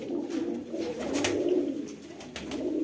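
Pigeons cooing close by in soft, low repeated coos that swell and fade in a continuous rolling pattern, heard alone with no talk.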